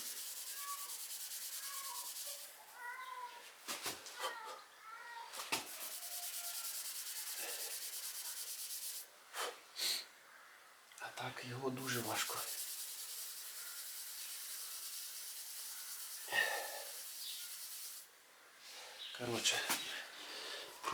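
Steady abrasive sanding hiss from a spinning polishing machine working titanium, with brief pauses where speech and softer rubbing sounds break through.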